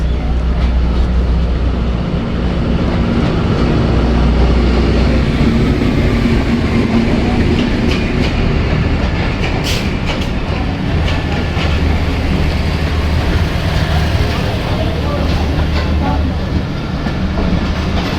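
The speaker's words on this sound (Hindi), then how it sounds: "आगे जी अवामी एक्सप्रेस।" The Awami Express passenger train rolls past in Pakistan, a loud, steady rumble with rhythmic clickety-clack of wheels on rails that holds throughout at close range, with faint voices in the background.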